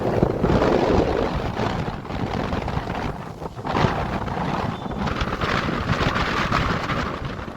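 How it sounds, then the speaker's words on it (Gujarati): Strong storm wind roars across the microphone in a continuous rough rush, loud and close with gusting swells and no voices. "આ બહુ જોરદાર પવન ચાલુ છે."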